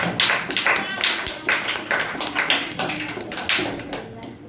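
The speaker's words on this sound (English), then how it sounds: "So next we have with us, clap for Lucky." Steady clapping from a school audience at a public speaking competition as the next speaker is welcomed, a continuous patter of many hands, fairly close, with faint voices mixed in.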